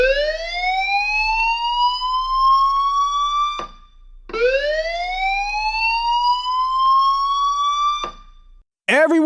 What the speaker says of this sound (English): Until suddenly, the fire alarm goes off.